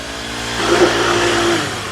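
A backpack-mounted concrete vibrator engine drones steadily at close range, and its pitch rises and holds as the throttle opens, with no voices.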